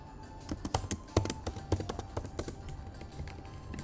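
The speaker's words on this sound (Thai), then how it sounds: "ก็เราเป็นคนที่พิมพ์แบบ เสียงดังอะ" Loud clacking keystrokes on a computer keyboard come in quick irregular bursts, close and clear, with no talk.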